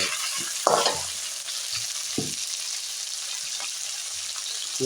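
Intermittent scraping and clinking of a spoon stirring mochai (field bean) tamarind curry in a pan, over a steady sizzling hiss, with a few brief louder stirs.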